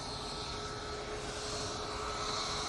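An aircraft powered by CFM LEAP-1B engines taxis at an airport, giving a steady, moderately distant engine drone with a high whine and low rumble that holds level throughout, with no voices.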